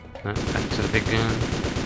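A heavy machine gun firing in the PC game DRIV3R, starting abruptly and then rattling in a fast, even burst of loud shots that continues to the end.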